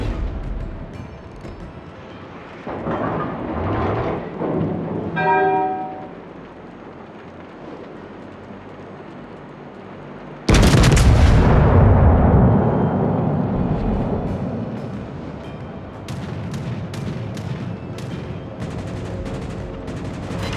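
The Italian battleship Giulio Cesare fires its main guns in the naval combat game World of Warships: a single huge, sharp boom that rolls away slowly, followed by lighter distant impacts.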